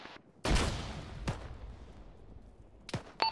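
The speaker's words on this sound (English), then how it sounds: "Anybody get hit with that grenade?" A grenade explodes in a military video game with a loud, close blast that rolls off over a second, followed by a few sharper distant cracks of gunfire.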